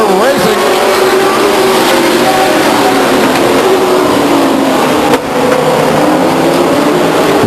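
Race cars roaring around the oval at Stockton 99 Speedway, a loud continuous blur of revving engines passing close, with an announcer's voice partly under the noise.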